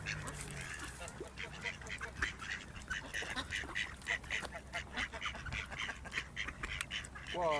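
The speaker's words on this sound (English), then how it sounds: "They're not swans. What are they? Geese." Geese at a nature reserve call in scattered, faint honks and quacks from a distance, mixed with distant voices talking in the background.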